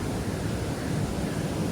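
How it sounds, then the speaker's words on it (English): A waterfall along the Ruakuri bush walk at Waitomo, New Zealand, at night, giving a steady, even rush of broadband water noise with no breaks for the whole stretch. "There's a waterfall here."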